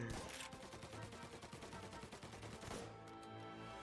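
Gunfire in the video game Mafia, shotgun blasts mixed with a rapid string of shots in a dense, roaring burst lasting about three seconds before fading.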